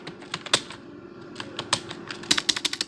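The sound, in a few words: typing on a computer keyboard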